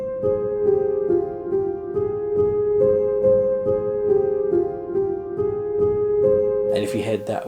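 A narrowed counter melody in a UK drill beat made in FL Studio, played as a steady looping synth line over low chords, loud and alone, with a brief noisy burst at the very end.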